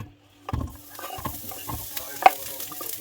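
Onion going into hot oil in a pan for a pork curry, a low sizzle with intermittent stirring knocks and scrapes close by, one sharp clink standing out.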